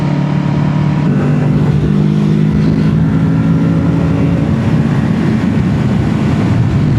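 A Kawasaki Z650 motorcycle engine held at a steady 5,000 RPM, a loud continuous drone with a constant pitch that stays close and unbroken throughout.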